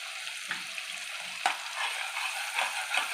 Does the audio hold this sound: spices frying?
yes